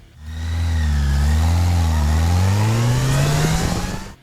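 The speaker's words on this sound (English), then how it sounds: "Number 14. Yamaha FJR1300." A Yamaha FJR1300 touring motorcycle engine revs up close and loud, its tone rising steadily in one long sustained pull with no talking.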